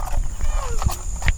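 A horse in a rural provincial setting gives a loud, whinny-like call that rises and falls once. It sounds over steady outdoor background noise and comes through without clear talk.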